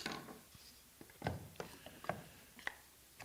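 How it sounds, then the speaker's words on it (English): A screw being loosened on a wooden box joint jig for a tablesaw, heard as a series of short, close clicks and ratcheting scrapes in an uneven rhythm, with no talking. "So we'll undo the screw a little bit and try it again."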